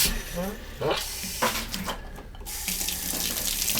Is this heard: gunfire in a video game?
no